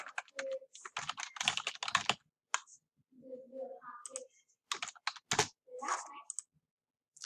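Computer keyboard typing in quick, close clicking bursts with short pauses between them, fairly quiet and clear, interleaved with a few brief tonal sounds.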